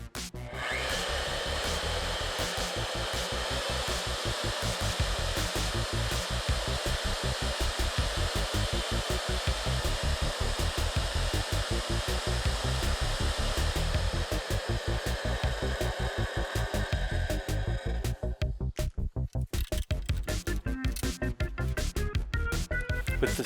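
A magnetic drill press center-drills into aluminum with a steady, loud motor whine and dense rushing noise that runs continuously, thinning out near the end as the cut finishes.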